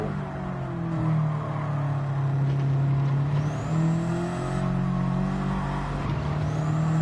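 Turbocharged TCR race car in Gran Turismo, running without anti-lag, at the Nurburgring Sprint Circuit: a steady loud engine drone with low gear-pitch sweeps as it shifts and pulls through revs, continuous and close.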